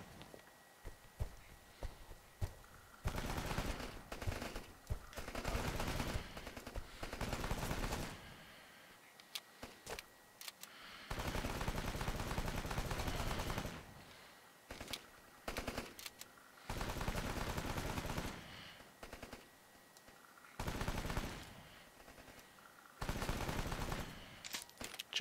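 The Rambo video game fires repeated bursts of machine-gun fire, rapid and loud, with short gaps between bursts all the way through, and no talk.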